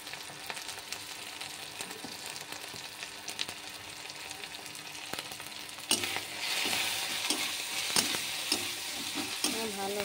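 Masala with chopped tomato, chili powder and turmeric fries in oil while it is stirred, a low sizzle with scattered spoon scrapes that swells into a louder, busier crackle partway through.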